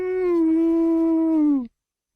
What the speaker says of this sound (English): Dogs barking. That proves the castle's inhabited.